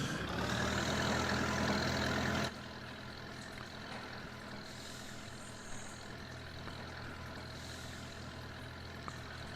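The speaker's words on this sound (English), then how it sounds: "Old school tractor." Old tractor engine idles in Farming Simulator 22, a loud rough rumble that abruptly drops to a quieter steady low idle hum for the rest of the clip.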